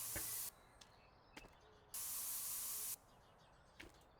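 In the video game Spray Paint Simulator, a spray gun paints a car bloody orange in two sustained hissing bursts separated by quiet gaps, with a few faint clicks between them.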